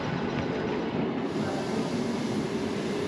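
Train rolling at Tbilisi railway station in Georgia, a loud, steady rumble of wheels and carriages with faint metallic high tones, continuous for a few seconds with no voices.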